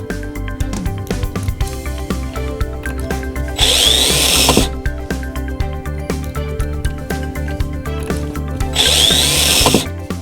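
A multi tool fitted with a 2.5mm drill bit pre-drills holes in wood for drawer clips, whining steadily up close, with two louder bursts of drilling as the bit bites into the workpiece.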